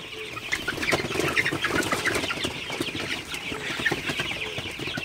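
Sonali super hybrid chickens drinking water at night make continuous clucking and soft chatter, with occasional wing flaps, steady and fairly close throughout.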